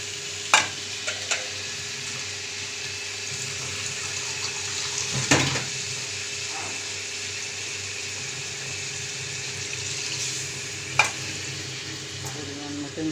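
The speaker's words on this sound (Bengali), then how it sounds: "পরিমাণ মতন জল দিলাম" Water poured into a pan of potato and soybean curry and stirred: a steady low sizzle and bubbling with a few sharp spoon clinks against the pan, close and moderate in level.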